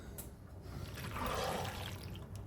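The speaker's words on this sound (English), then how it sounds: "We are now ready to add in our sour cream with our milk." Milk pours into a sour cream mixture for baked mac and cheese, a soft liquid splash that swells in the middle and then trails off, heard close and quiet against low room noise.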